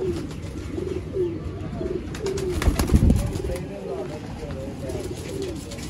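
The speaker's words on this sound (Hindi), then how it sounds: "तसल्ली बख्श आपको कबूतर दिखाए जा रहे हैं, शौक करवाया जा रहा है" Pigeons coo in soft, repeated low rolls close by, with a voice talking over them and faint rustling in the background.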